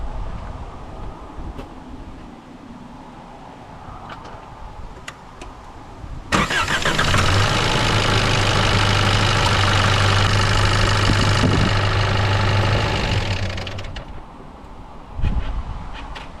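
A 4x4 in the outback cranks and catches, then settles into a steady, loud idle for several seconds before shutting off, with quiet surroundings before and after.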